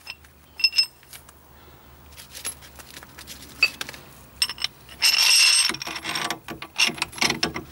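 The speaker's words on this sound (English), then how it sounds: "Use the wheel bearing tool set to insert the bearing in the hub carrier." A wheel bearing tool set presses a bearing into a car hub carrier with irregular metallic clicks, ratcheting taps and clanks, close and fairly loud, broken by a sustained grinding stretch midway.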